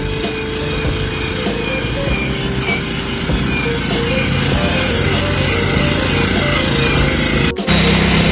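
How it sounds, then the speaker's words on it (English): Steady, loud motorized whirring of a drill brush scrubbing stains on a couch, running continuously, with a brief cutout near the end before it resumes. "Next, we got the drill brush."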